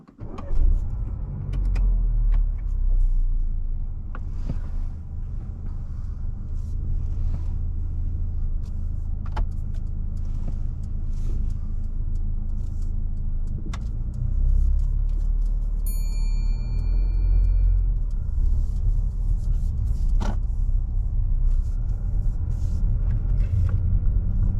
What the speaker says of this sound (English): so when you're ready, Ishveen, I'd like you to start the engine